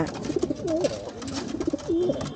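Pigeons, including a newly added male, coo softly in a loft. Repeated throaty, bubbling coos come close and moderately loud, with soft shuffling between calls and no voices.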